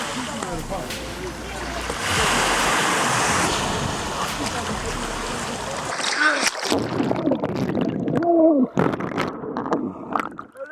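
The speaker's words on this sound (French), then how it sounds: "on va mettre la caméra sous l'eau" Camera plunged underwater in the cold sea at Lisbon: rushing surf and splashing, then a sudden switch to muffled, bubbly gurgling and thuds beneath the surface.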